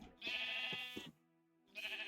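A sheep in the Minecraft video game bleats twice, a clear, close, wavering baa followed by a short pause and then another, with no talk over it.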